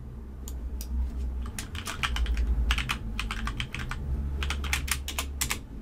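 Steady, brisk typing on a computer keyboard while naming a Windows 11 Start menu folder, with bursts of close, crisp key clicks separated by short pauses over a quiet background hum.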